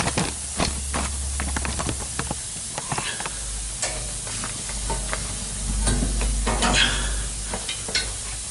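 Food sizzles in an overheating frying pan with a continuous close hiss, broken by scattered pops, crackles and the scrape of stirring, and a low steady hum underneath.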